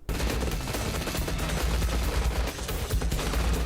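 Gunfire in Mission: Impossible 2, a loud dense burst of rapid shots and automatic fire rattling without pause for several seconds, with no talking.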